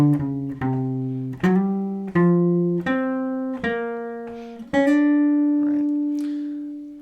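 Clean jazz guitar replays a short phrase: roughly seven distinct plucked notes and dyads in even rhythm, closing on a held note that slowly fades, played alone.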